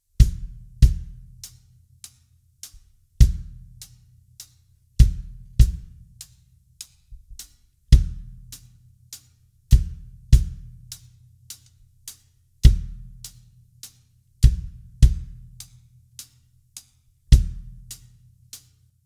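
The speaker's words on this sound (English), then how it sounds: "So the way that the kick drum sounds with the hi-hat is now like this." A beginner drum beat pairs the kick drum with a steady hi-hat in a repeating groove: crisp, evenly spaced hi-hat ticks over deep, punchy kick thumps, played cleanly and alone in a quiet room.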